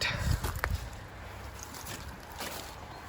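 The engine of a 1959 Reliant Regal Mk5, started for the first time in over 20 years, runs steadily outdoors off choke, with a low rumble and gusts of wind buffeting the microphone.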